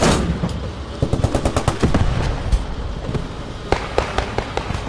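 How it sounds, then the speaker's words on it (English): Machine gun fire crackles in the World War II shooter game Post Scriptum, with rapid bursts of sharp shots and scattered single reports, some close and punchy, others more distant. "I see machine gun fire"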